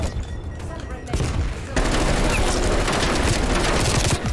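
Dense, loud automatic gunfire in a crowded 12v12 Black Ops Cold War Moshpit match, a steady rattle of rapid shots that thickens and grows louder partway through, with faint voices in the background.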